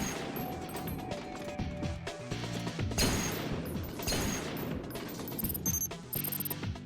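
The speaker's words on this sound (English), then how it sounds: "Holding the attack button down fires off multiple rounds." A rifle in the video game Baldr Sky fires rapid bursts of rounds, a dense, loud stream of overlapping shots and impacts over busy game sound, with no talking.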